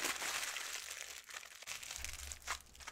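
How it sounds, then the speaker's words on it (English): Aluminium foil crumpled by hand for a mixed-media craft project, giving a steady crinkling rustle that runs close and fairly loud through the clip with brief lulls. "and again, just crumple that up."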